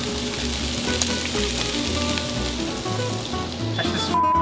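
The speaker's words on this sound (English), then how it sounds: "I'm gonna just reheat up the meat." Meat reheating in a little oil in a frying pan, a steady close sizzle and crackle of frying that runs unbroken throughout, with a brief clatter near the end.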